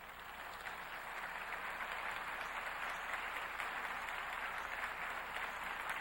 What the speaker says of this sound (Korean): 세계적인 부흥사 신용진 목사님 나오실 때 심찬 박수 부탁하겠습니다